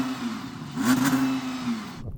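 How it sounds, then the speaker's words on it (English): An Audi R8 supercar sits stationary for a drag race sound check, its engine revving once in a short, rising mid-pitched burst before dropping back to idle. The sound is fairly close, with no talk. "Give it some revs."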